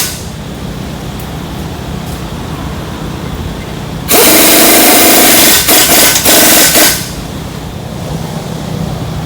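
A power tool on Jeep Wrangler track bar hardware with an 18mm socket: a loud burst of about three seconds with a few quick stutters near the end, cutting through a steady background hiss.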